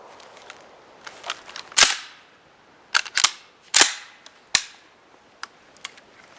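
Several sharp gunshot cracks from a Hatsan Escort 12-gauge shotgun ring out one at a time with irregular gaps, a few louder bangs standing out among fainter pops, close by with no talking.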